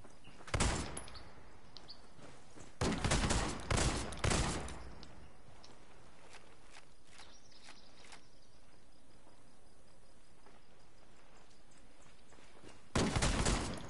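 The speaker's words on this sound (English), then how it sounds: "Shotgun time." Shotgun blasts in the Ghost Recon video game, a few loud sharp bursts spaced out across the stretch, with a quieter chirping, insect-like background between the shots.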